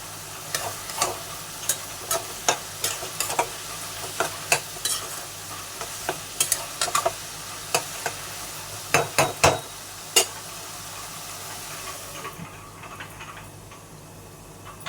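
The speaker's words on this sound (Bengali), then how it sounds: "এই বড়াগুলো দিয়ে আরও দু তিন মিনিট ধরে ঢাকা দিয়ে দিচ্ছি" Bottle gourd curry with fritters cooking in a pan, with a steady low bubbling under a run of sharp, irregular spatula clicks and clinks against the metal that stop before the pot quiets near the end.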